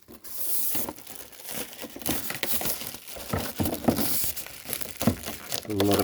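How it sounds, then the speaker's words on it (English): Protective plastic layer peeled off Star Wars Vintage Collection figure packaging, giving a continuous close crinkling and tearing with small crackles throughout. "Peel that protective layer off."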